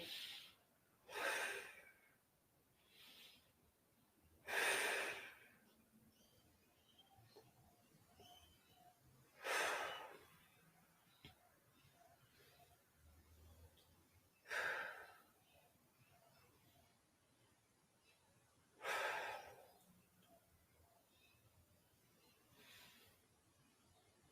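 Slow deep breaths during a home ab and trunk-stability workout, each sharp inhale or exhale rising every few seconds, close and fairly loud against a quiet room, with occasional faint sounds between.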